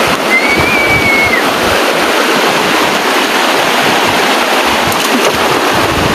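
Steady, loud rushing water fills the scene, a broad continuous roar of a flowing river with no voices.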